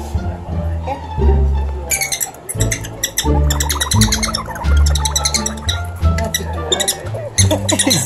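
A pet prairie dog makes agitated squeaks, chirps and hisses in rapid, repeated bursts close to the listener, loud and insistent over several seconds.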